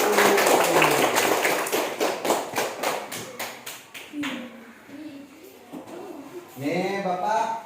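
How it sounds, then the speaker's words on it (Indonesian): Schoolchildren at an elementary school clap their hands in a quick, loud burst of rhythmic claps, then fade into excited chatter and an adult voice speaking. "tepuk tangan dulu"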